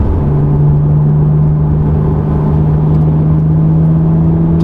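A 395-horsepower Porsche 911 Targa engine pulling through a corner, a loud, steady droning rumble with a constant whir, heard from inside the car with no talk.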